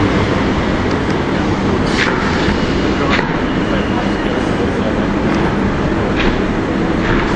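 Steady, loud rumble of a Greater Anglia train bound for London Liverpool Street at a busy station, a continuous broadband roar with faint clicks over it and no talking.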